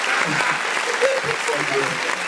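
An audience claps steadily throughout, the applause running under voices that talk and shout over it for the whole short stretch.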